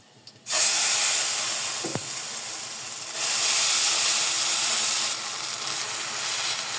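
Suji chilla batter hits a hot pan with ghee and bursts into a loud, close hiss of sizzling that holds steady, easing slightly midway before swelling again.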